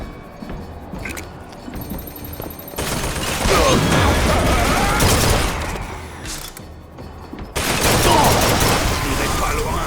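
Gunfire in the BioShock Infinite video game, dense sustained bursts of shots and booms that swell and drop back, with a voice speaking in the background amid the shooting.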